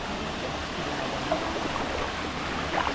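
Broad, steady rush of falling water at a swimming spot in Ella, Sri Lanka, filling the whole clip at an even level, with faint splashes near the end and no talk.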